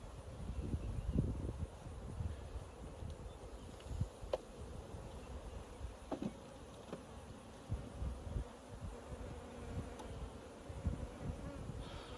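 A low, steady buzzing of many honeybees at an open hive hums throughout, with occasional faint clicks and knocks nearby.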